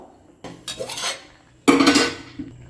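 Ragi porridge stirred in a pot over a low stove flame, a spoon scraping and knocking against the pot in two separate bursts, close and moderately loud, with no talking.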